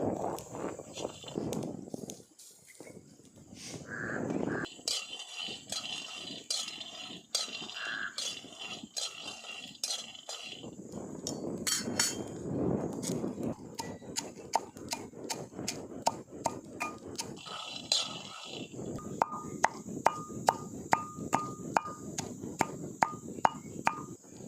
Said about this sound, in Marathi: लसूण आणि हिरवी मिरची आपण ठेचून घेऊ आधी यातच मीठ टाकायचं आहे